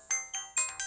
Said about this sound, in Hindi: सुंदर का कॉल आ रहा है